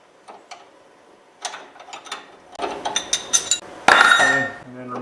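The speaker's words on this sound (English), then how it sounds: "you should be able to loosen up the bolt" A wrench working a rear strut bolt on a 1998 Dodge Durango: sparse metallic ticks and ratcheting clicks, then a run of clanks and a loud creaking clunk as the bolt breaks loose, up close.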